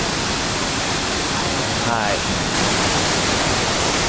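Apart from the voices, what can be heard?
waterfall rushing at a Taiwan sightseeing spot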